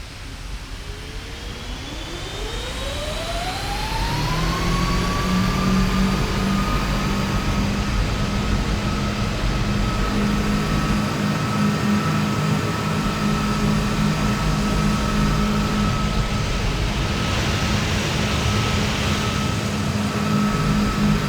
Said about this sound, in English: let's spool up these engines up and down a couple of times so you can really hear it